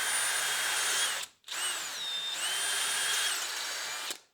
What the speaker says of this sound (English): So I'm going to have to drill this, I think.